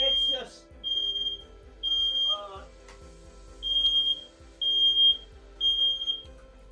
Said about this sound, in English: No, that is my fire alarm.